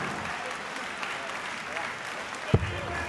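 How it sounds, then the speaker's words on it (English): A modest ripple of applause rises from the darts crowd at the European Darts Matchplay in Hamburg as the German player sets himself up in the leg. The clapping sits fairly quiet and distant beneath the arena's steady background hum, with one sharp knock near the end. "Ripple of applause here in Hamburg as the German puts himself in a decent position in this leg."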